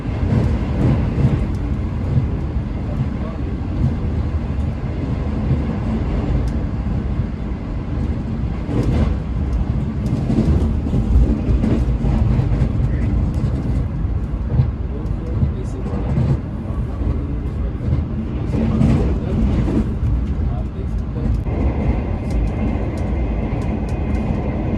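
Shalimar Express train running at about 110 km/h, heard from inside an AC parlour coach as a loud, continuous low rumble with rhythmic rail clatter and occasional sharper bangs, voices faintly present.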